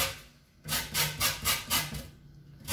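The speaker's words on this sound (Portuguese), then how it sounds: "eu vou ralar na parte mais fininha." Pink lemon peel being grated lightly on the fine side of a metal grater: a series of about six rhythmic rasping strokes, close and fairly soft, following a brief quiet pause.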